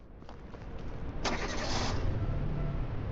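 A car engine in the video game Southwest Ranch Simulator cranks and catches with a sudden loud burst, then settles into a steady low rumble.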